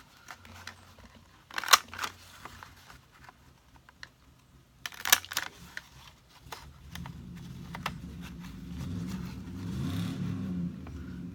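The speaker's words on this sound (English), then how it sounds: "Somebody is messing with their car outside." A car revving outside down the street, a low steady engine drone rising in the second half under faint clicking and tapping close by.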